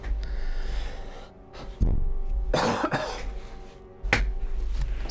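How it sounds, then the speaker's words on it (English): Several harsh, dry coughs come in separate bursts from one nearby person, with quieter breathing between them. "Sorry for all the coughing."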